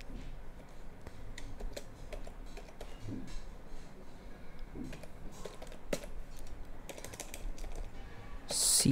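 Keystrokes on a computer keyboard as network-reset commands are typed on a Windows 11 PC, a steady run of close, light clicks with scattered sharper taps and no speech.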